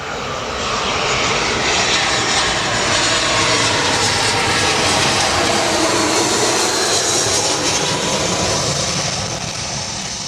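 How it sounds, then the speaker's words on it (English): A Jetstar Airbus A320 from Melbourne lands at Gold Coast Airport, its jet engines a loud, continuous broadband roar holding steady throughout, close to the listener on a sunny day, with no voices. "Here we go, got our Jetstar, the A320 in from Melbourne."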